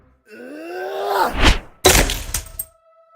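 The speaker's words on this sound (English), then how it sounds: "He lifts it and smashes it against your head." A drawn-out, pained male groan rises and breaks off into a heavy wooden smash as a piano is struck against a head, followed by a second crashing thwack with splintering debris, close and loud.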